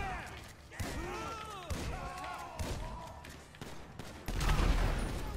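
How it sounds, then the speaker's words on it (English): Explosions and gunfire in the video game GTA V story mode, a string of booming blasts and bangs with ringing debris sounds, rising to a heavy impact near the end, with a voice talking alongside. "What is exploding?"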